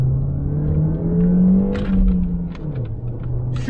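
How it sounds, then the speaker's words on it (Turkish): A car with a 1.4-litre turbo engine accelerates hard, its close, steady engine drone climbing in pitch with light mechanical clatter and road rumble beneath. "Şöyle bir gazlayalım."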